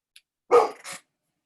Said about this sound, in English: Oh, somebody barked.